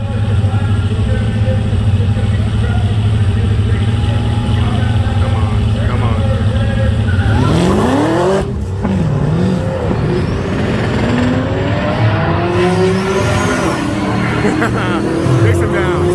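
A drag race car roars loud and close at the line during Rocky Mountain Race Week at Great Bend, then launches and sweeps away with rising, falling engine pitch as the tires spin; a voice talks over it.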